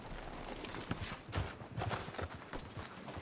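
Horse hooves clip-clopping at an unhurried walk over a dense, noisy game soundscape, the steps soft and somewhat muffled.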